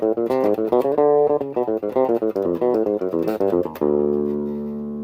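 A fast bass guitar riff mixing Lydian and Phrygian notes, busy running notes played loud and even for several seconds before landing on a long held low note that rings out and fades.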